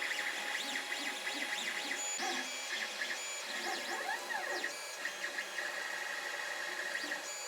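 A Creality Ender 5 Plus 3D printer runs a print job, its stepper motors singing rising and falling whirring tones in a continuous, moderately loud mechanical pattern with no talking.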